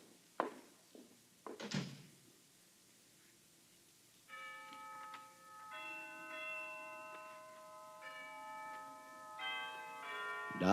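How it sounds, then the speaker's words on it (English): Harkness Tower bells chime noon, a slow sequence of clear ringing tones following a few soft knocks, moderately distant and without speech. "Down from the Harkness Tower floated the chimes of noon"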